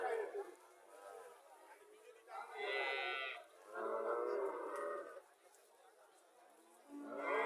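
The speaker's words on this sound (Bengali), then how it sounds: "হরিয়ানা গাভি, আরো একটা হরিয়ানা গাভি দেখা গেল।" A Haryana dairy cow with a calf at a cattle market lets out several drawn-out moos, fairly close by, while people talk in the background between the calls.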